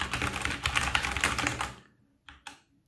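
Rapid clacking of a SteelSeries Apex 7 mechanical gaming keyboard's keys in a dense burst, then silence broken by two separate key presses near the end.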